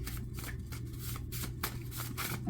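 Tarot cards are shuffled continuously at close range, a rapid papery riffling with repeated bursts and flicks, quiet and alone without talk.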